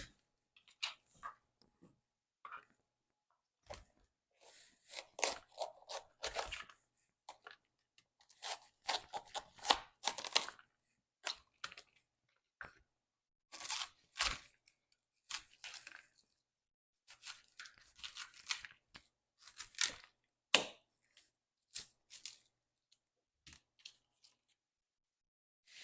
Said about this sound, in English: So we need cauliflower florets, no stems. So let me separate it into florets.